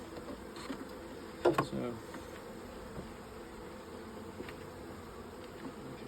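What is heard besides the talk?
Buckfast honey bees buzzing around hive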